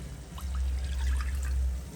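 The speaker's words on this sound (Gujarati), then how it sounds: "આપણે તુવેરની દાળ અંદર નાખી દઈશું એક ગ્લાસ પાણી નાખીને" A glass of water is poured onto toor dal in a pot, a soft continuous trickle heard fairly faint over a low background hum.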